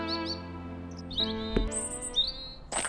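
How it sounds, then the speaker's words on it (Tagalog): A small bird gives thin, high chirping calls by a roadside on the way to a market, with a few short tweets scattered over sustained tonal background music. "narinig na Alida ang sigaw ng isang maliit na ibon"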